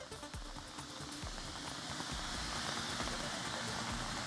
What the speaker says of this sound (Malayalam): ഡൽഹിയിൽ കനത്ത മഴ തുടരുകയാണ്.